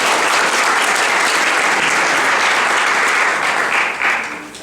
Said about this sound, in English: So I want to give Ray a round of applause for that.